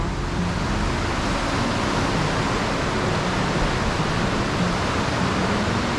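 A waterfall in Lauterbrunnen, Switzerland gives a constant, dense hiss of falling water, loud and unbroken for the whole stretch with no voices.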